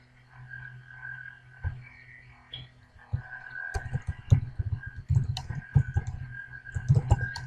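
Keys tapped and a mouse clicked while an equation is entered in Microsoft Excel: a few scattered clicks at first, then a dense, irregular run of close, crisp taps over a steady low electrical hum, with no talking.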